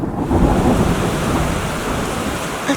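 Heavy rain pours down steadily, a dense, loud wash of drops with a low rumbling undertone throughout.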